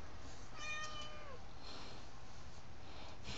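Cats meowing near a fridge being opened: a close meow with a wavering pitch rises over a steady hum of background noise, with fainter meow-like calls after it.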